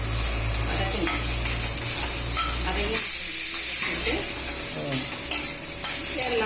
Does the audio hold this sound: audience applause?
no